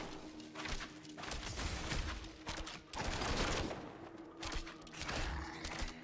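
The Strafe skill fires in Diablo 4, a rapid series of whooshing arrow shots and impacts in uneven bursts, moderately loud amid game effects.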